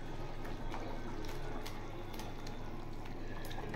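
A pot of thin Bengali hilsa fish curry broth boiling on the stove, a soft continuous bubbling with faint pops and crackles, fairly quiet and steady.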